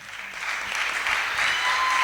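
Applause from a wedding congregation in a church hall, a steady wash of clapping that swells gradually and stays dense throughout, with no voices standing out.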